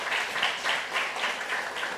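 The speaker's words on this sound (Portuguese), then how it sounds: "A salva de palmas aí para quem falou mudanças climáticas." Soft applause rings out during an online class session, a faint, fairly even patter of clapping with a gently pulsing rhythm and no speech.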